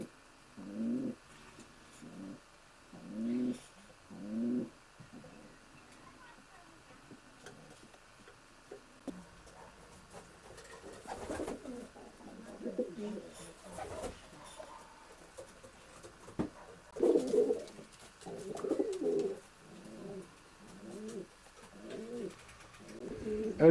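Racing pigeons coo in soft repeated rhythmic phrases in their loft, with scattered rustling and fluttering around them in the enclosed space.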